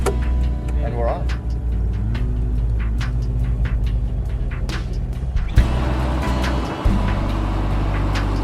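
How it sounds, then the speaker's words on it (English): A 1947 Nash car's engine hums steadily as it drives along, with road rumble and occasional clicks and knocks throughout. "Dennis and Keith are cruising in Nicola Bulgari's 47 Nash"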